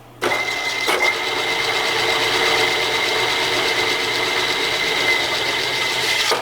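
A manual milling machine spindle runs steadily on auto feed while machining aluminum, a loud, even mechanical whine with a sharp click near the start and no talk.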